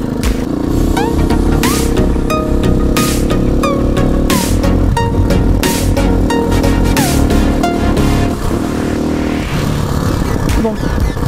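A motorcycle with a buckled rear wheel and loose, unscrewed spokes accelerates hard, its engine droning steadily with rising revving tones and gear changes, loud and close throughout.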